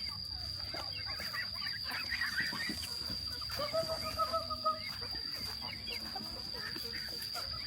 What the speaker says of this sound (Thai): มีทั้งเป็ดทั้งไก่กินน้ำกันเลย